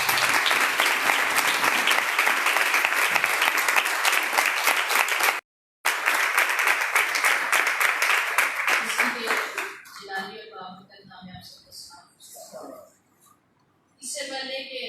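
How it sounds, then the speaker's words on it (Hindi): Loud, dense applause from a Sunday church service congregation, sustained for several seconds with a brief cut, then thinning into scattered claps and quiet murmurs before clapping resumes near the end. "आपकी जोरदार ताली।"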